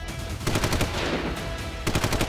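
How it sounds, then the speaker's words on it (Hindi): Gunfire in news report footage from Kulgam, heard as dense, rapid bursts of machine-gun-like shots, loud and sustained through the clip with a brief lull before a final volley. "कुलगाम में फिर गोलियां चलाई गई।"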